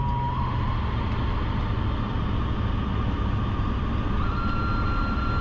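Steady whine from inside the dashboard of an old Bentley as the climate control is switched to cold, a constant tonal hum with a faint higher pitch held over a low cabin rumble, no talking.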